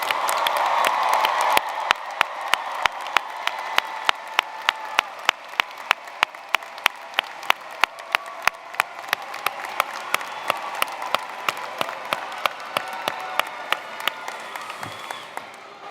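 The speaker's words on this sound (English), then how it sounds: "Please recognize all of our graduates by giving them another round of applause." A large audience gives sustained applause for graduates at a graduation ceremony, many hands clapping steadily for over fifteen seconds with a few sharp individual claps standing out near and loud, slowly thinning toward the end.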